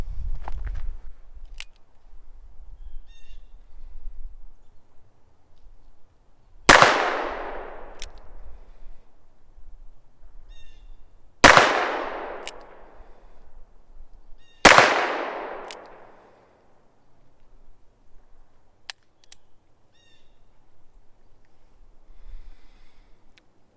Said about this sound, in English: this is full power 158 grain factory 357 Magnum ammunition